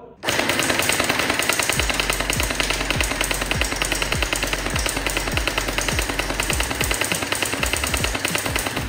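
A P90 V4 gel blaster with plastic gears fires in full auto, a loud, rapid, continuous mechanical rattle of shots that runs nearly nine seconds without pause, close to the listener.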